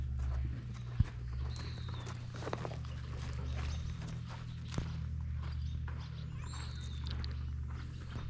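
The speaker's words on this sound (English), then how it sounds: "So we are on our horses." Horses walking along a guest ranch trail in Wyoming's Bighorn National Forest, hooves clip-clopping in a steady, soft rhythm beneath a constant low rumble, with a couple of sharper knocks.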